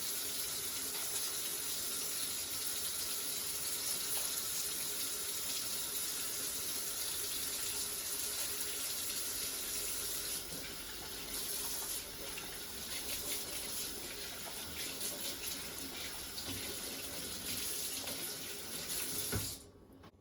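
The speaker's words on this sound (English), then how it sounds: "we need to wash our hands" Water runs steadily from a tap into a sink during handwashing, a continuous hiss and splash that lasts the whole stretch, dips briefly midway and cuts off at the end, with no talking.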